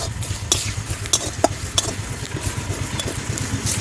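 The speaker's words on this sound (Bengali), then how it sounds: "পোস্তটাও একসাথে একটুখানি রোস্ট করে নিচ্ছে" Poppy seeds dry-roasting in a pan give a steady soft sizzle and scratchy stirring, with sharp spatula scrapes and taps knocking out every half second or so, all close and without speech.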